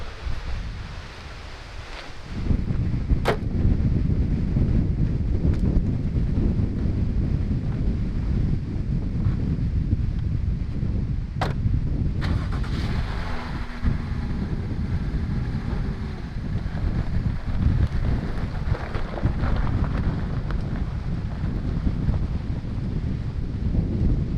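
Strong, cold wind at a campsite in the Ozarks buffeting the microphone with deep rumbling gusts, continuous and loud, with a few sharp knocks and no voices.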